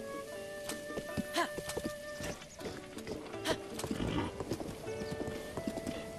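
Horse hooves clip-clopping in Breath of the Wild, a steady rhythmic trot of sharp hoof strikes with an occasional whinny, heard over game music and ambience.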